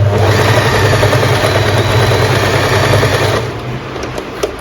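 An Usha Wonder Stitch Plus electric sewing machine runs at a loud, steady buzzing hum, close by, then drops to a lighter whir near the end, without any speech.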